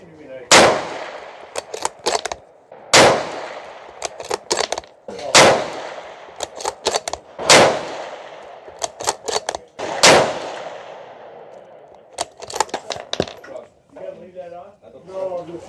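Five loud, sharp rifle shots from a Ruger American Ranch Gen II in 5.56 firing 62 grain ADI F1 ammunition, spaced a few seconds apart, each followed by mechanical bolt clatter and handling noise, with a short burst of talk at the end.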